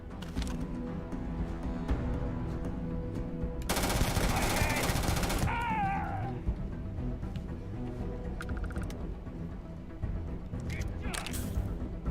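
Rapid automatic gunfire from a video game weapon rattles in a dense burst midway, with scattered shots and game effects around it, while a voice talks over the action.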